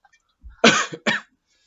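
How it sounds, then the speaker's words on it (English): Two harsh coughs in quick succession, close and loud, followed by silence. "So, I'm coughing"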